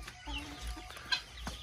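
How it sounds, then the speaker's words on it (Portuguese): Chickens on a small farm give a few short, soft clucks at moderate distance among faint outdoor background sounds, with no talking. "Ali tá o outro com as galinhas dele já."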